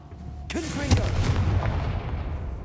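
A Confringo spell explosion in the Hogwarts Legacy video game, a sharp booming blast followed by a rumbling, crackling tail with a few smaller pops, loud and close.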